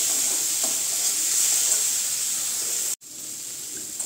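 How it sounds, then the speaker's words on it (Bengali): Coriander, dried chili powder and turmeric fry in a pan with a steady, close sizzling hiss that cuts out for an instant near the end, then resumes. "দিয়ে আমি মশলাগুলোকে একটু ভালো করে কষিয়ে নেব"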